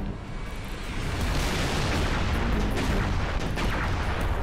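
AA gun being destroyed in the Halo Reach video game, a loud, dense rumble of explosive booms and blasts that builds after the first second and keeps roaring without a break.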